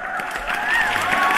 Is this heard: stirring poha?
no